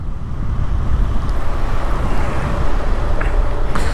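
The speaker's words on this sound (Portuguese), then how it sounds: "Tá vento demais aqui, mano." Strong wind buffets the microphone outdoors at a roadside in São Paulo, a loud continuous low rumble with gusty fluctuations and no speech.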